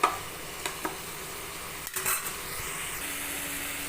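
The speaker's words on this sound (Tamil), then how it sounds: "கொஞ்சம் நல்லா வதங்கட்டும்" Sliced okra sautés in a pan with salt and turmeric for an okra thokku: a soft, steady sizzle with a few clinks and scrapes of a spoon against the pan, and no talking.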